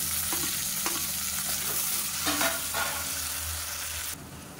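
Onions and tomatoes sautéing in a pan for mushroom biryani give a steady, close sizzle, broken by a few scraping stirs of a spoon.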